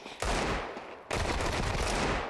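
Desert Eagle pistol fire in a tournament video game: two sharp, loud shots about a second apart, each followed by a lingering noisy tail.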